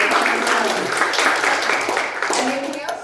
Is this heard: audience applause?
yes